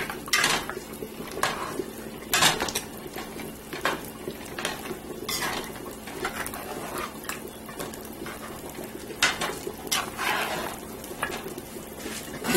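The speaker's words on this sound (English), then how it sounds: "Now I'm going to stir it." A spoon stirs ogbolo soup with spinach in a metal pot, making repeated scraping clinks at an uneven pace, close up, with a soft sizzle underneath.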